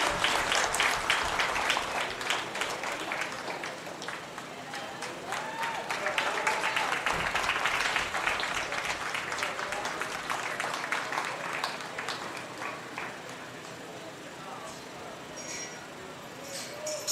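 A crowd applauds the champions of a 4-H beef show at the Clay County Fair, a long, steady wash of many hands clapping with scattered voices mixed in, holding fairly even before easing slightly toward the end.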